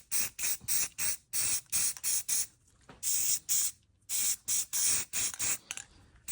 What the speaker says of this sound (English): spray paint, ew, and I'm overcoating it.